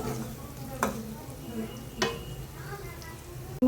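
Garlic sautés in sesame oil for a garlic curry, a soft continuous sizzle broken by a couple of spatula scrapes and ending with a sudden loud clunk.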